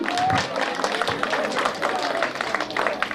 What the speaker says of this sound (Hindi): Please जोरदार तालियों से उनका स्वागत करें.